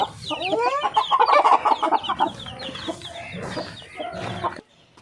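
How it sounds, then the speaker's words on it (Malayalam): Chicks cluck and cheep in a busy flock nearby, overlapping high chirps and soft clucks continuing for several seconds. "നമ്മുടെ കോഴിക്കുട്ടികൾ കേട്ടാ"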